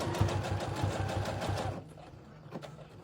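A sewing machine stitches pajama pants in a quick, even burst of needle thumps at close range, then stops, leaving faint handling clicks.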